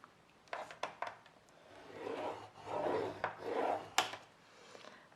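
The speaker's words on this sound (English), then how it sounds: "Then you start with the long side and we score 1/2 inch." A scoring tool scrapes along a template across white cardstock in soft, close strokes, several rasping passes preceded by a few light taps.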